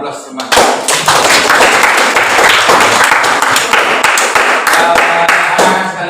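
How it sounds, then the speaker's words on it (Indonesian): Students in a high school classroom break into loud, sustained applause with dense clapping that runs almost the whole time, a few voices mixed in. "Beri aplaus semua."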